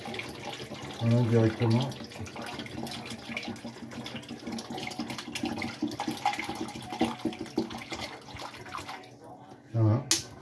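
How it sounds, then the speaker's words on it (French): Water, three litres in all, streams onto about 900 g of honey in a container to start mead, a steady splashing pour with a few louder gushes while someone speaks French over it. "maintenant je vais rajouter l'eau"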